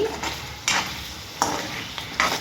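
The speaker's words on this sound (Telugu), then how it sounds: "చూడండి, చికెన్ ఫ్రై చేస్తున్నాను" Chicken frying in a pan with a steady hiss, broken by four short scraping bursts of stirring at regular intervals, close and fairly loud, with no voices.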